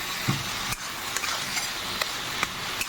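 Ghee hitting a pan of sizzling vegetarian cabbage curry gives a steady frying hiss, broken by a few light stirring clicks and taps, with no talking.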